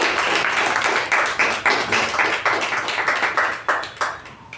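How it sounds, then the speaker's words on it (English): A Toastmasters club audience claps for the Toastmaster of the day, a lively burst of individual hand claps with distinct, uneven peaks, fairly close and loud, with no voices on top. "Please welcome the current VPM and the Toastmaster of the day, Toastmaster Shuba, with a huge round of applause"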